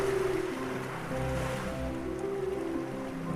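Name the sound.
ocean surf at the shoreline of Cathedral Rocks, Rottnest Island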